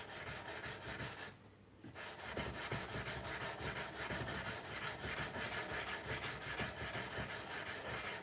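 A knife blade is hand sanded with 180 grit sandpaper toward a 400 grit satin finish near the guard. Steady, close, rhythmic rasping strokes run throughout, with one brief pause early on.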